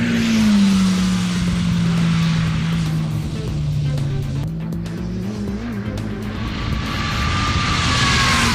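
A 400 horsepower Mini race car engine roars at full throttle, loud and close in a sustained drone whose pitch sags and then climbs again, with no talking.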